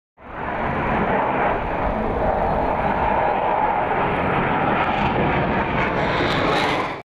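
Military aircraft pass over a Victory parade in Nizhny Novgorod with a loud, steady, broadband engine roar that swells in quickly and holds for about six seconds before cutting off.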